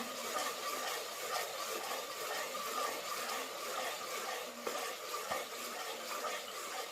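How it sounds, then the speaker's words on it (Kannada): Crushed ingredients fry in a pan with a dense, steady crackling sizzle throughout, close by and fairly loud, with a couple of faint utensil knocks. "ಈಗ ಒಂದು ಮೂವತ್ತು ಸೆಕೆಂಡ್ ಮಾತ್ರ ಇದನ್ನು ಫ್ರೈ ಮಾಡ್ಕೊಳ್ಳೋದ್ರಿ"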